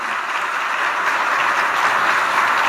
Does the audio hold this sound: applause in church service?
yes